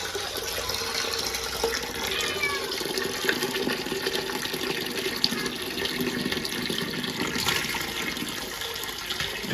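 Tap water runs steadily into a sink as fish is washed, a continuous splashing hiss at moderate level with no talking.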